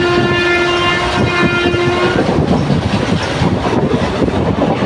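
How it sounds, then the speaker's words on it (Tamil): The Sengottai Superfast Express racing at high speed, a long horn blast sounding for about two seconds over a loud, continuous rattle of wheels and carriages close by, with no talk. "செங்கோட்டை எக்ஸ்பிரஸ் நல்லா காட்டு வேக போகுது"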